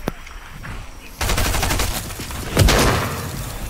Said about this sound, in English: You shoot me so many times.